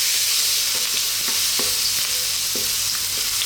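Garlic sautéing in hot cooking oil for a Filipino ampalaya with corned beef dish, a steady close sizzle with a few soft stirring scrapes and clicks throughout.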